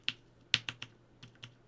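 Keys clack on a custom-built Bauer mechanical keyboard with some slightly binding switches: a handful of crisp, close keystrokes at an uneven pace in a quiet room, with no talking.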